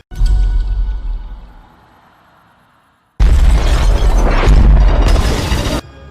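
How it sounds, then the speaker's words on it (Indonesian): A loud, deep film explosion from a drilling station in the Mariana Trench bursts out and rumbles away into quiet, then a second roaring blast erupts with crackling debris before cutting off. "Dan tiba-tiba terjadilah ledakan yang menghancurkan hampir seluruh area di tempat itu."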